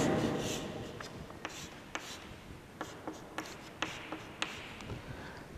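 Pen or pencil writing out an electronic configuration on paper, a steady close scratching rub with a series of small taps as marks are made, alone with no talk.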